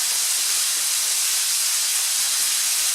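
A kilo of lamb browns in a hot pan, giving off a loud, steady sizzling hiss with no pauses or breaks, close up and unaccompanied by speech.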